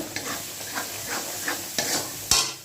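A spatula stirs spice masala in a pan while cooking Bengali doi begun, giving soft scraping strokes over a gentle sizzle. One sharper clatter comes near the end. The sound is close and fairly quiet, with no voices.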